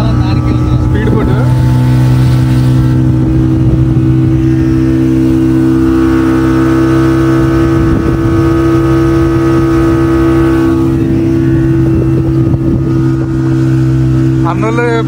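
A speedboat on the Kinnerasani dam reservoir runs with a steady, loud motor drone throughout, its pitch shifting slightly as it moves, while voices talk over it.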